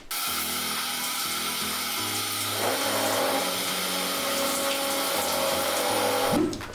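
Steady broadband rush of a cold shower running, loud and continuous throughout with low rumbling underneath and a brief splash near the end, no voices.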